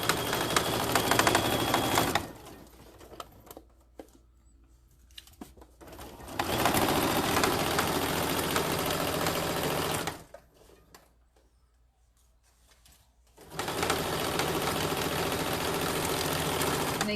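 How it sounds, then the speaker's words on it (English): A sewing machine stitches a pillow in three loud bursts of steady running, broken by two quiet pauses where the machine stops. "You want to definitely make sure that you don't sew with the presser foot up."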